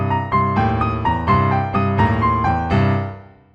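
Blues piano plays quarter-note triplets with alternating interval notes, producing a bright, rhythmic chain of struck tones with sustained low harmony underneath. The notes ring out and fade at the end.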